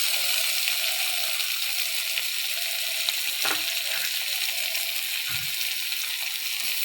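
Fried madar flowers stirred in a pan of sizzling oil, a steady loud frying hiss with a couple of brief scraping stirs, and no talk.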